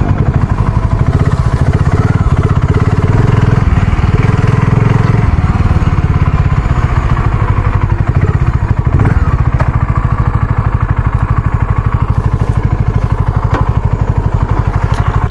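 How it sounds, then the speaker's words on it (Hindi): BSA Gold Star 650 motorcycle engine idling close up with a steady thumping rhythm, a misfire giving an uneven, stumbling beat and mechanical clatter throughout. "तो आइडल पोजीशन पे ये है इसकी, ये इसकी साउंड होने वाली, लेकिन ये जो मिस कर रहा है ना, ये प्रॉब्लम है इसमें।"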